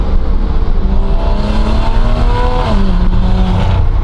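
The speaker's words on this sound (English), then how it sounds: "This exhaust genuinely is pretty nuts. It makes this car sound like it has a 2JZ in it" A BMW N55 inline-six with an aftermarket exhaust revs loudly and up close, its pitch climbing smoothly and then dropping sharply before rising again, with a raspy exhaust note.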